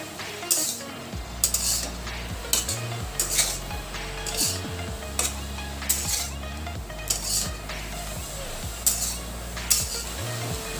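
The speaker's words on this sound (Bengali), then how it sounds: "সব একসাথে ভালো করে মিশিয়ে নেব।" Spoon stirring cumin, coriander powder and vegetables together in a metal pan for a bottle gourd leaf curry, giving repeated sharp scrapes and clinks at a steady rhythm, with no voices.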